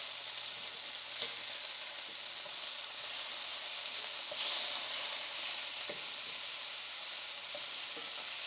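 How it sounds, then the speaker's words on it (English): Scallops searing in melted butter in a pan give a steady, fairly loud frying sizzle that runs without a break, with a few soft clicks and shifts as they are flipped and no talking. "we're gonna throw in just a little bit more butter to melt down. And we can start to flip these seared scallops."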